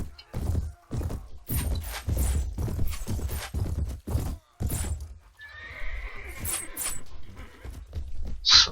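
Horses neighing and hooves pounding in a battle of the video game Mount & Blade Warband Viking Conquest, with repeated loud hoof thuds in quick rhythm, then a whinny, near and clear, without talk.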